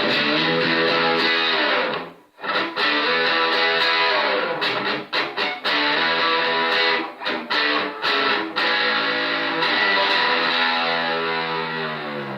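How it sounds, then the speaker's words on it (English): Heavily distorted Donner DST-1S electric guitar playing sustained, buzzing chords with a few brief breaks, loud and close. "So now we're going to switch over to distortion"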